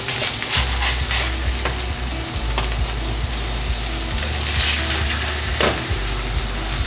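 Cheesesteak slider meat sizzling loudly in a pan as the patties are flipped, a dense continuous crackle with sharp spatula scrapes and taps throughout, no talking.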